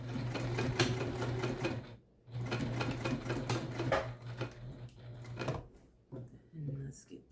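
A sewing machine stitches a tote bag, basting a D-ring tab in place with bursts of steady rapid stitching that pause and restart, close and fairly loud, with a voice talking over it.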